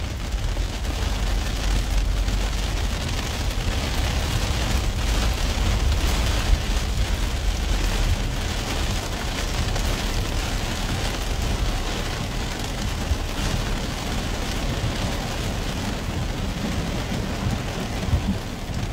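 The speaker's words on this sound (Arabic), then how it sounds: "حاليا أمطار الخير على صاع" Heavy rain pours steadily east of Umm Ghafa in Al Ain, UAE, a dense, loud, continuous hiss of water hitting the ground with deep rumbling underneath, carrying on without a break.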